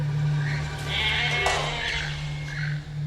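A goat bleats in a sustained, wavering cry over a steady low hum, close and fairly loud, without speech.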